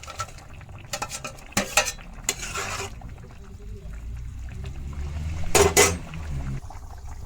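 Paneer cubes go into a thickened vegetarian curry in a pan with ash gourd and soya chunks, bringing a few sharp clinks of a spoon against the pan and soft stirring while someone talks.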